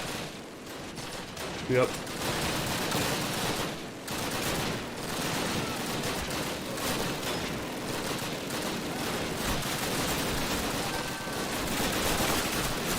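Sustained bursts of machine gun fire from an MG nest in a Stalingrad level of a World War II shooter game, continuous and loud throughout, with a voice briefly speaking over it.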